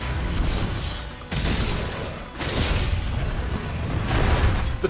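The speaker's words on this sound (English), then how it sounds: "Utilize the guard shot to unload a burst of slinger fire from behind your shield" Lance guard shot in Monster Hunter World Iceborne, unloading a burst of slinger fire from behind a shield: dense, loud booming blasts with a sharp bright crack near 1.3 and 2.4 seconds over a continuous rumbling bed, no talk.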